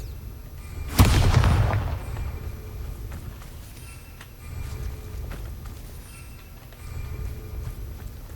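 A Bombarda spell detonates in the Hogwarts Legacy game, one sharp, loud blast followed by a rumbling decay, then quieter ambient low rumbles.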